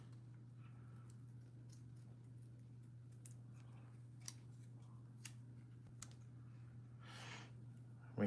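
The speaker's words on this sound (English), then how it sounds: "We're going to do a little trimming." Scissors trim a sticker with a few sparse, quiet snips spread out at close range over a low steady hum.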